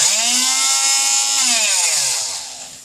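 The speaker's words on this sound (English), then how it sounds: "It oscillates this blade back and forth at a very small distance at a pretty high frequency" A loud, steady high-pitched buzzing of an oscillating tool blade cutting a tire off an aluminum rim, droning continuously and tapering off slightly at the end.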